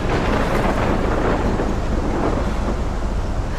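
A thunderstorm in the video game Life is Strange gives a steady, dense roar of rumbling thunder and rain-like hiss that fills the whole stretch without a break and without any voices.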